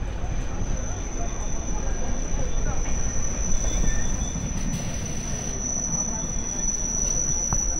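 A local train near Sankrail station on the Howrah line gives a loud, steady rumble with wheel noise and a high squeal throughout, heard close, with some voices mixed in.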